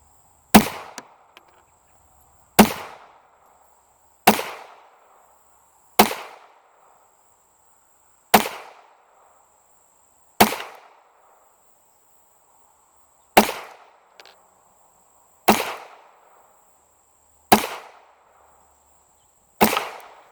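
An old High Standard Model B pistol fires ten sharp, loud shots at a steady, unhurried pace, each crack ringing briefly before the next, with no talking.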